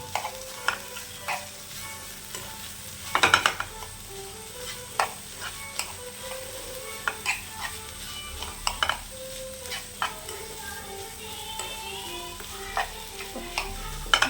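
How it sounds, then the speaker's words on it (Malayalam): Fried rice is stirred and mixed in a sizzling pan, with a spatula scraping and tapping against the metal in repeated irregular strokes over a steady frying hiss, fairly close and with no voices. "നമുക്ക് ഇതെല്ലാം കൂടെ ഒന്ന് മിക്സ് ചെയ്ത് കൊടുക്കാം"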